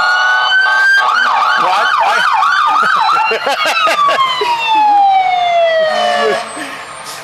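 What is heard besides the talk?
emergency vehicle sirens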